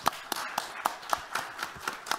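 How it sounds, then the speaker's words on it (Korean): Sparse, evenly spaced claps from a small audience at an indoor policy forum on carbon neutrality, honouring a guest; about nine distinct slaps in quick succession, fairly faint and slightly distant. "여러분 박수 한번 보내주시죠"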